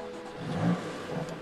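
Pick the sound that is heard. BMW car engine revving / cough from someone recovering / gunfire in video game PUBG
BMW car engine revving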